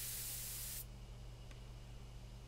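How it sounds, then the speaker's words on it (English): A sprayer hisses out a burst of sleeping drug at a bee hive in the video game Death Mark, a single loud broadband spray under a second long that cuts off abruptly, leaving a low steady hum. "Take careful aim and spray the drug."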